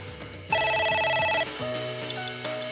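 A phone rings inside AI: The Somnium Files: a bright electronic ringtone holds steady tones for about a second, then shifts to a lower pattern with sharp clicks from the game's sounds.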